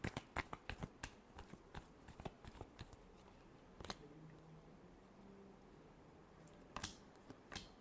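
Tarot cards being shuffled by hand, bursts of crisp riffling clicks at the start and again near the end with a quieter stretch between, close and soft, no talk.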